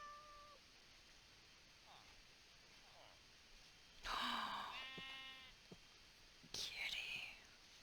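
A cat meows softly a few times nearby in a quiet room, with a louder drawn-out meow midway and another near the end, plus faint whispered speech.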